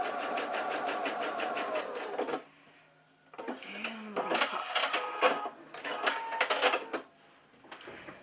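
A sewing machine stitches teddy bear pieces along a curve in rapid, close mechanical bursts, first a long steady run, then a short pause, then several stop-start runs with someone talking quietly.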